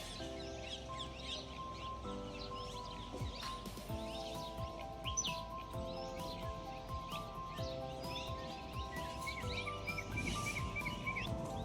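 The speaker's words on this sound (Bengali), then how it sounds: "চারিদিকে পাখিদের আওয়াজ। চারিদিকে পাখিরা ডাকছে" Birds call all around on a morning during Durga Puja, the chirps and tweets layered over a steady busy background with tonal hum and household noise, continuous throughout.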